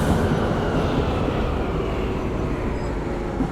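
A tram rolls steadily in Frankfurt Tram Simulator, a dense, continuous low rumble of wheels and running gear that holds at even loudness from start to finish, with no voices.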